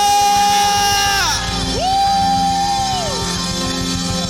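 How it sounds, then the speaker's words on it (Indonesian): A church congregation at a Sunday worship service in Batam cheers and whoops loudly, a dense wall of crowd voices over sustained musical tones. "Bolehkah kita sekali lagi berikan tepuk tangan yang meriah buat Allah kita lebih lagi"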